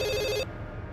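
A telephone bell rings loud and close in a brief burst, then cuts off abruptly about halfway through, leaving a quiet room tone.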